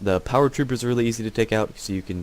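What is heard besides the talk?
No everyday noise stands out behind the speech.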